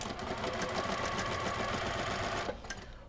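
A sewing machine runs steadily, stitching the final seams of a vintage-style 1930s quilt block. Its rapid, even chatter continues close and clear for about two and a half seconds, then stops.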